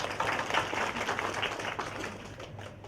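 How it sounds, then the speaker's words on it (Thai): Applause at a company's annual shareholders' meeting welcomes a board member, a dense, steady patter of many hands from a seated crowd, fading slightly toward the end. "ขอเสียงปรบมือต้อนรับท่านอีกครั้งค่ะ"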